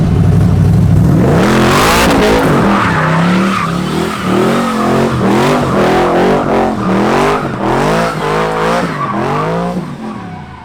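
An LS1 V8 fitted with a big cam and a built head revs on a dyno through its usual exhaust, a loud, raw engine roar that climbs and falls in repeated pulls with no talk over it.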